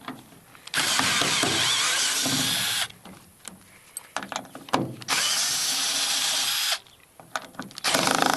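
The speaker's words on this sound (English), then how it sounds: "That's about all this little bit driver will handle" A small cordless power bit driver backing screws out of a handle on a MirroCraft aluminum boat, two long loud whirring bursts with rattling and clicks of handling in between, close and alone.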